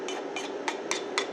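Knife chopping vegetables on a cutting board for spaghetti sauce, five crisp, evenly spaced chops close by, with no talk.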